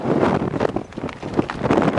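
Strong gale-force wind buffets a wild camp on Dartmoor near Steeperton Tor, a loud continuous roar with gusty surges and microphone rumble, no voices.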